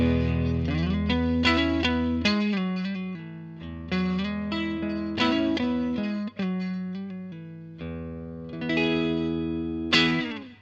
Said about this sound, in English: here is how the amp sounds completely clean